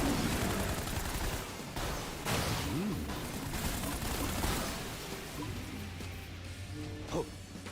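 Rapid gunfire in the Space Punks video game crackles in dense bursts, loud and close, with sharp impacts and a few metallic pings, while a voice occasionally speaks over the shooting.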